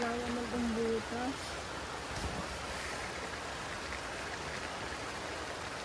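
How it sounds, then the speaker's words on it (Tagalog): Heavy rain pours steadily at a Laguna campsite, a dense, even wash of noise filling the whole stretch, with a brief murmur of voices near the start. "Hindi, sobrang ulan."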